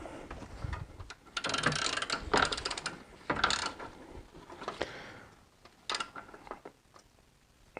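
The timing chain tensioner is fitted back into a BMW E46 M54 engine with a ratchet, giving close, moderately quiet bursts of clicking and scraping. Metallic taps and brief pauses break up the work.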